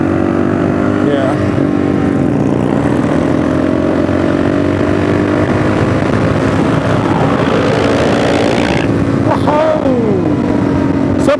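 Custom Kenny Roberts edition Yamaha Bolt motorcycle running loud and close, a steady engine drone with a few throttle swells near the end while people talk over it.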